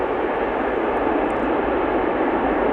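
An Airbus A330 airliner lands at Amsterdam Schiphol Airport, its engines producing a loud, steady, broadband roar that holds without a break.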